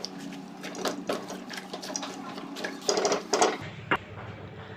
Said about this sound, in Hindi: अब हम इसमें 2 कप जो है वो पानी शामिल करेंगे